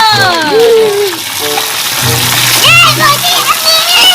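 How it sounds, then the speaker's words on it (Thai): Water spraying and splashing into a toy pool, a hissing, splattering stream heard under excited child speech and other voices. "ฉีดน้ำลงไปเลย"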